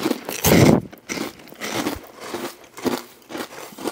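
Freeze-dried sour gummy worms crunching loudly between the teeth, one strong bite followed by several lighter crisp crunches and chewing, close up with no talking.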